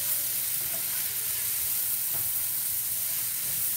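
Cherry peppers with yellow and red sweet peppers fry in a pan for chicken scarpariello, giving a close, steady crackling sizzle with a constant hiss and no talking.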